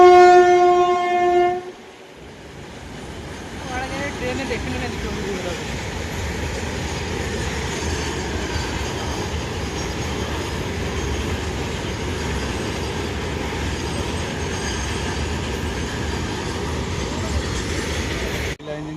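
A passenger train blares its horn in long tones, then rolls past close by with a sustained loud rumble and rhythmic clatter of wheels on rails that lasts to the end.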